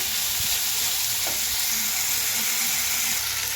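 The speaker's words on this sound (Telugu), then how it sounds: "చూడండి, ఇలా బాగా వేయించాలి" Ingredients for a lentil soup (pappu charu) fry in a pan, a continuous loud close sizzle with occasional stirring scrapes and no talking.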